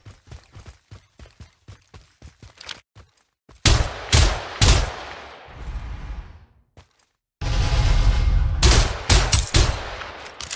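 Gunfire in the video game Farlight 84: a quick run of sharp, evenly spaced shots, then louder heavy bursts with brief gaps and a short silence before another dense volley, all close and loud with no talk.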